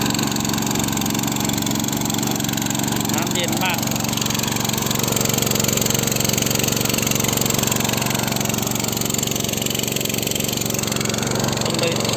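An engine-driven water pump runs continuously beside a newly dug fish pond, pumping water out. It gives a steady, loud, droning hum with no breaks, and a voice speaks faintly under it.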